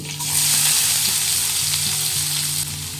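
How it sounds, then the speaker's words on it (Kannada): Cumin seeds, a cut dried red chili and onion fry in hot oil, giving a loud, steady, close sizzle that runs unbroken with light crackle and occasional stirring, and no voices over it. "ಎಣ್ಣೆ ಬಿಸಿಯಾಗ್ತಿದ್ದಾಗೆ ಸ್ವಲ್ಪ ಜೀರಿಗೆ ಒಂದು ಒಣಮೆಣಸನ್ನು ಕಟ್ ಮಾಡಿ ಹಾಕ್ಕೊಂಡೆ ಹಾಗೆ ಈರುಳ್ಳಿ"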